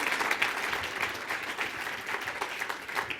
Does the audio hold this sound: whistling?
no